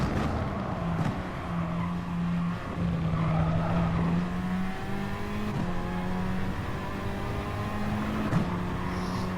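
A race car at Interlagos, its engine revving in repeated upshifts with short-shifted pitch drops, loud and continuous, with tyre noise underneath and no voices.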